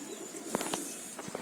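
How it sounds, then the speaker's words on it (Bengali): Pigeons outside a hotel on the road toward Darjeeling, with a few short coos and soft calls rising over a steady outdoor hiss. The calls come in brief bursts at moderate distance. "এখানে বেশ কিছু পায়রা।"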